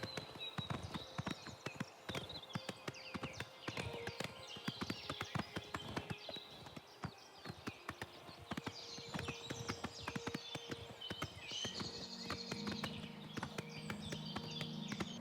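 Horse hooves clip-clop steadily as a rider travels in The Elder Scrolls IV: Oblivion, a continuous rhythmic gallop with faint game ambience, alone without talk.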